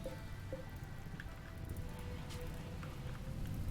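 Steady rain patters across the ground in foggy rain weather in the RimWorld video game, a continuous, even hiss of drops with a few brighter ticks and no voices.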